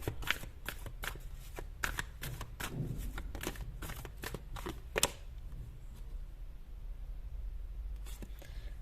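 Tarot-style cards being shuffled close up, a quick series of crisp riffles and snaps for several seconds before the sound falls to a quiet room hush, with a couple of faint card flicks at the end.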